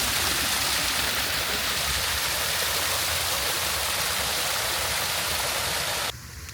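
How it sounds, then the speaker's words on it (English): A small waterfall at a garden water feature in Mercer Botanical Garden, Houston, pours in a steady, close, broadband rush that cuts off abruptly near the end. "Got this little waterfall here."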